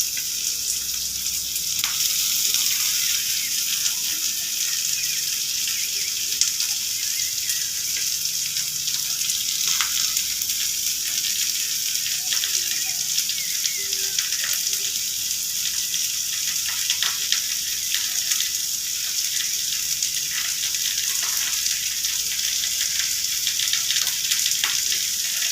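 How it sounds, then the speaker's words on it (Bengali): Chopped onion, garlic and ginger frying in oil with chillies, for a prawn bharta, give a steady, dense sizzle that runs unbroken throughout, with faint stirring scrapes now and then and no talking. "এখন দিয়ে দিচ্ছি পেঁয়াজ কুচি, আর দিয়ে দেব রসুন কুচি আর আদা কুচি।"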